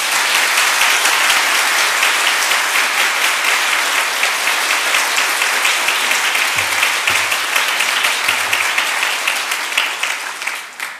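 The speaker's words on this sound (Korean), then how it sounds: "힘차게 격려의 박수로" A church congregation bursts into sustained, dense applause that fills the room at steady loudness for the whole stretch, tapering slightly at the very end.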